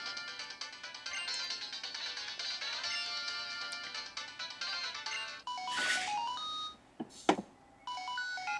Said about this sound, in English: And the extra receiver is ringing